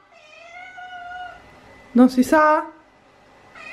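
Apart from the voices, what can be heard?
cat meowing, wanting to go out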